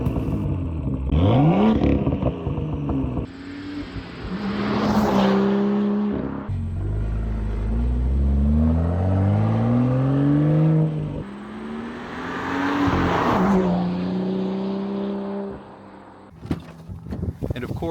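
A BMW F87 M2 LCI with a six-speed manual and M Performance exhaust revs up in long rising sweeps between quieter stretches, with a door or window noise near the start and talking in places.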